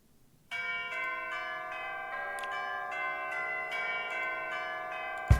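Ringing bells in the ending song of the video game Mana Khemia: Alchemists of Al-Revis, struck in a steady repeating pattern with long sustained tones that layer and linger, heard clearly with no talk.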